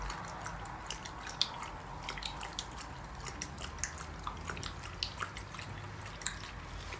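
Water drips and trickles indoors with a steady soft wash and scattered small clicking drops throughout, faint and close, with no talk.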